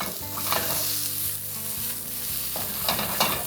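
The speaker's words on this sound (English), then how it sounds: "If you put the peppers and onions in your pan and it's too hot and it's sizzling too hard" Peppers and onions sizzle steadily in a hot oiled pan, a continuous crackling fry with occasional stirring scrapes and faint background tones, close and moderately loud.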